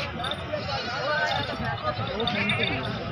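Goats at a crowded livestock market (bakra mandi) in 2022, bleating amid dense crowd noise and continuous talk from nearby people.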